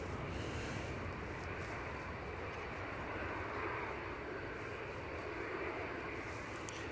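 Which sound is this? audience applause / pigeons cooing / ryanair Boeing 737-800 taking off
ryanair Boeing 737-800 taking off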